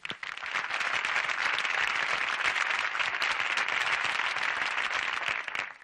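A theater audience at a live comedy monologue gives a steady, even round of applause, many hands clapping in a dense wash that swells in and holds, fading slightly at the end.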